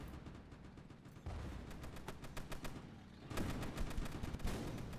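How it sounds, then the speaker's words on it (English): Rapid automatic gunfire from a mounted M2 Browning machine gun in Roblox Tower Battles, sustained bursts growing louder midway amid other game battle noise, with no talk. "There's even an M2 Browning mounted on it to take out even more zombies."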